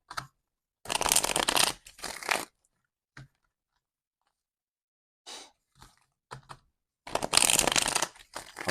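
Tarot cards are shuffled in short crisp riffling bursts, several rapid flurries separated by quiet pauses, close and fairly loud with a few small taps between.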